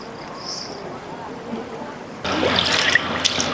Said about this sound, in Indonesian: Inilah aliran sungai yang baru karena sudah berpindah ke sini.